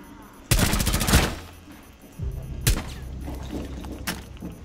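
Bursts of gunfire in Rainbow Six Siege on the Consulate map, loud sharp volleys around half a second and two and a half seconds with quieter rapid shots trailing after, over background game noise.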